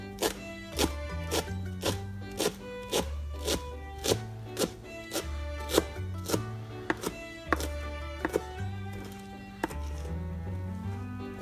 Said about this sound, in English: I'm just gonna sort of double them over like this, and then chop them this way.